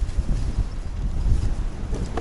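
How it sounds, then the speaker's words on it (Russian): Strong gusty wind on open ice while ice fishing buffets the microphone in a steady low rumble, with no voices. "Но ветер, конечно, жесть вообще."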